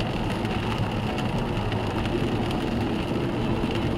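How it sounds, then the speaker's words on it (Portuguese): Heavy rain pours steadily over a car driving down the mountain road of Serra de Saloá in Pernambuco, Brazil, a dense, unbroken hiss with a low engine rumble beneath. "muita chuva, hein?"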